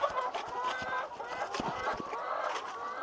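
Chickens clucking beneath a raised chicken coop: a steady, overlapping chorus of close clucks and murmurs from many birds, continuous with no pauses or talking.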